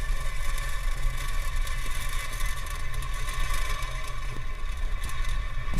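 A Falcon 9 booster fires all nine Merlin engines at liftoff from Vandenberg, a steady, broad, distant roar with deep rumble and crackle that stays constant and loud throughout, no talk over it.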